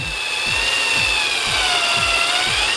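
A cordless drill with a weakening battery polishes plexiglass with Flitz, giving a steady high whine over a rhythmic low whirring that repeats about twice per second, close and continuous.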